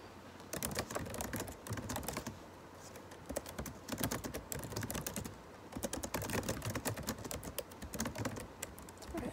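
Rapid clicking keystrokes on a computer keyboard, dense irregular bursts of typing with short pauses, close and moderately quiet, with no voices over it.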